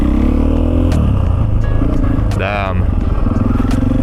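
Husqvarna FE450 motorcycle engine running loud and close during a wheelie attempt, a steady droning roar with a brief rising rev in the middle, and a rider's short exclamation over it.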